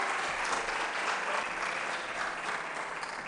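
Steady audience applause at a synagogue's MLK birthday celebration honoring contest winners, a dense wash of many hands clapping, moderately distant and sustained throughout without a break.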